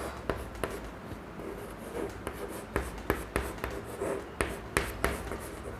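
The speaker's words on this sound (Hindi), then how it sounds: "इसको जरा सा इधर लिख देते हैं" Chalk or marker writing on a classroom board during a chemistry lesson: a run of crisp taps and short scratchy strokes in an uneven rhythm, close and clear, with no talk over it.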